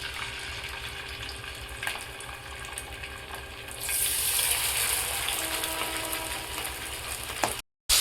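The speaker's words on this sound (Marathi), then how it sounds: "पॅन ठेवलेला आहे, तेल टाकलेलं, तेल गरम झालेलं आहे. तर आता मी मच्छी टाकते" Bombil fish laid into hot oil in a home pan brings a sudden, loud crackling sizzle that rises midway and holds steady, close up and with no talk.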